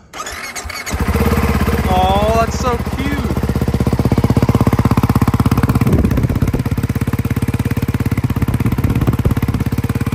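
A Ducati 698 Mono single-cylinder motorcycle engine cranks and fires, then settles into a loud, close, rapid idle that throbs steadily for several seconds. A person speaks briefly over it.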